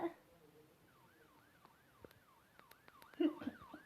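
An ambulance siren wails in a faint, regular up-and-down sweep. It carries on under scattered clicks and a short burst of noise near the end.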